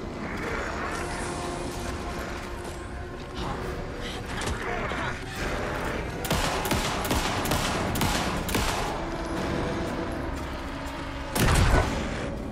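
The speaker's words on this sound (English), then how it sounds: "every time I shoot the shotgun at him, he vanishes" Shotgun fire in the video game Alan Wake 2: repeated sharp blasts over a busy, loud stretch of combat noise, with one especially heavy, booming shot near the end.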